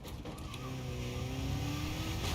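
A video game car engine hums steadily, its tone rising gradually as it accelerates, loud and continuous with no talk over it.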